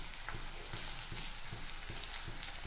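Green chillies hit a pan of softened onion and fry with a quiet, steady sizzle, punctuated by soft periodic stirring taps, close and low in level.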